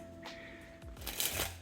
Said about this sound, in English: let's just give a good little overhand shuffle and a riffle shuffle